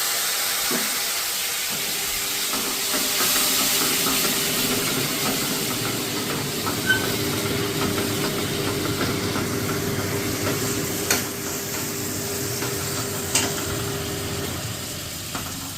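Mustard-poppy paste is stirred into spices frying in a pan for a prawn dish, giving a steady broadband sizzle with a few sharp utensil scrapes and taps near the end.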